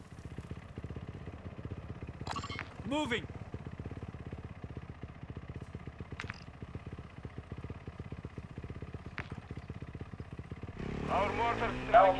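A dirt bike engine in Call of Duty: Modern Warfare II gives a steady, close, buzzing drone throughout, rising at the end, with brief game effects and voices over it.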